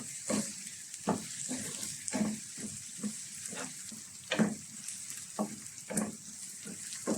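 Onions and shallots sizzle in a pan for a crab roast while a utensil stirs them in regular scraping strokes, about one each second, loud and close with no talk.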